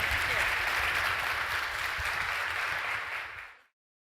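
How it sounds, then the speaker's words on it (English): A large keynote audience at the Collective 2014 conference in Orlando gives sustained, dense applause that holds steady for over three seconds and then cuts off abruptly. "And a big applause to our leaders."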